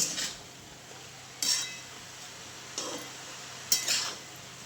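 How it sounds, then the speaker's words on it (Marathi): Vegetables with salt get stirred in a pot, with brief metallic scrapes and clinks of a spoon recurring at irregular intervals over a quiet, faint sizzle. "मीठ टाकून आता परत एकदा हलवून घेते चांगलं"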